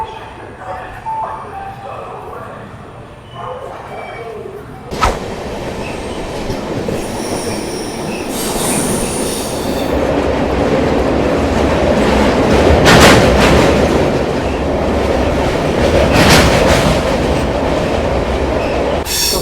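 Amrit Bharat Express train running on the rails, a steady near rumble with rhythmic clickety-clack and wheel squeal that swells louder partway through, with talk heard over it.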